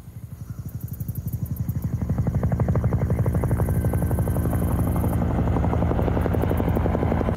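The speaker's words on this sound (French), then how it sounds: "Un hélicoptère" Helicopter in The Walking Dead season 3 episode 3: a loud, steady rotor chop pulses rapidly and builds over the first few seconds before holding at full strength, with no talk.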